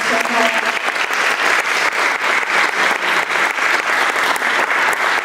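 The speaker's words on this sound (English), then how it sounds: "Can we get some applause for all these people?" A community potluck audience claps loudly for the food team, a dense and sustained round of applause close by, with a faint voice briefly underneath.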